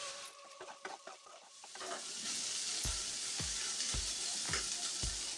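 Potato pieces fry in a pan with salt, giving a steady bright sizzle. A spoon scrapes through them in regular strokes, close up and with no talking.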